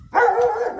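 A single short, loud dog bark, close and alone, heard amid storm damage from strong winds in Marcos Parente.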